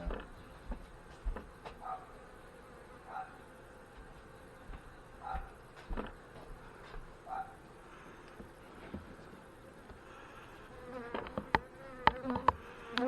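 Faint honey bee buzzing hums steadily in the background at an open hive, with occasional soft knocks and clicks and a brief burst of louder buzzing near the end.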